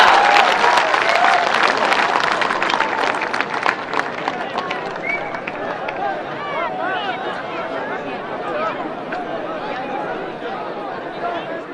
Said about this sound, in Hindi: तालियों की गड़गड़ाहट से स्वागत करें माननीय प्रधानमंत्री जी का।